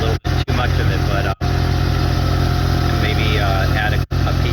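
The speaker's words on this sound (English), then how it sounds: "Have Mike take a look at that exhaust setup, because I can hear a little bit too much of it" A 1989 Mazda RX7 Turbo II rotary engine runs steadily through its exhaust, a loud, close, continuous drone with a few abrupt brief dropouts, while a voice seems to speak over it.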